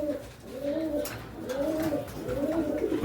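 A pair of pigeons with a short beak and bright red eyes coo close by in three rounded, rolling phrases spaced about a second apart, soft and clear against quiet surroundings.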